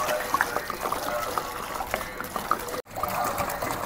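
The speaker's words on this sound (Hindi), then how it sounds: "ये बड़ी वाली बोतल में से ले आके डालूंगा" Water poured from a large bottle, a light trickling and splashing stream heard fairly softly over a short stretch, with a brief break partway through.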